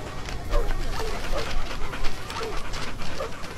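A dog barks and whimpers in short bursts, close by, mixed in among people talking in Hindi.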